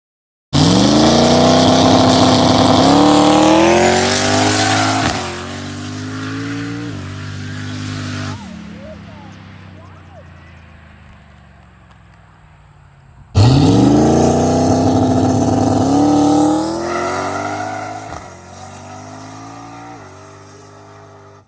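A no-prep drag race car launching on a cold, dirty public road, its engine roaring loud and close through rising gear pulls, fading into the distance, then a second loud engine roar near the end.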